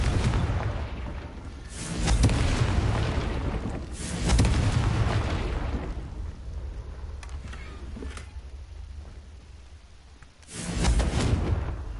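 Spell explosions from the Confringo curse in Hogwarts Legacy, heard as three loud, deep booming bursts spaced several seconds apart, each rumbling away before the next.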